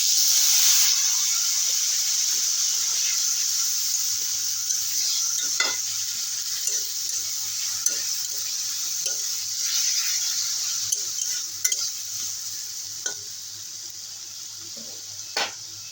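Ginger paste and a little water hit a hot pan of dried shrimp and elephant foot yam stalks, a loud steady sizzle that slowly fades, with scattered clicks of stirring and no voices.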